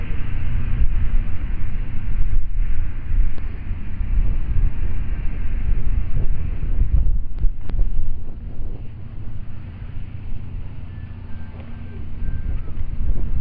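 Steady wind rumbles across the microphone throughout on an outdoor disc golf course, a low continuous roar with slight gusts and no clear voices.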